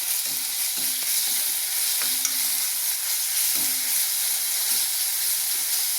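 Ginger garlic paste fries with onions in a pan for biryani, giving a steady bright sizzle and hiss with occasional soft scrapes of a stirring spoon, with no talking over it.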